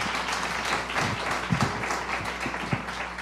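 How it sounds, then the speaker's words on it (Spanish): A crowd applauds steadily, a broad wash of clapping from many hands with a few sharper claps standing out near the end. "Un aplauso de bienvenida, por favor, a Connie."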